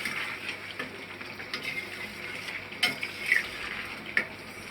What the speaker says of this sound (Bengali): সব কটা জিনিস দিয়ে আমি এটাকে একটু নাড়াচাড়া করে দেবো।